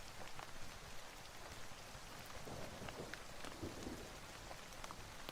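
Steady rain falls across the whole stretch, a dense hiss of drops on surfaces with scattered heavier drips, even and continuous, with no voices over it.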